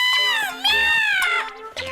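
A cartoon kitten gives several short, high, rising-and-falling meows in quick succession, loud and close, with a little background music beneath.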